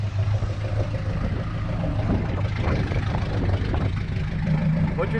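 A Dodge truck's 440 engine with a Holley carburetor runs at a steady idle, loud and close, as a continuous rumble with no pauses.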